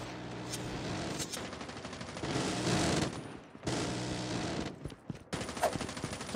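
Sentry gun in Call of Duty Mobile's undead mode firing rapid automatic bursts, dense rattling volleys with brief gaps between them, loud and close, mixed with other game effects.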